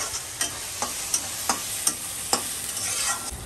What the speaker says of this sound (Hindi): पेस्ट डालकर भी हम 1 मिनट भून लेंगे, अदरक लहसुन का कच्चापन ख़त्म होने तक।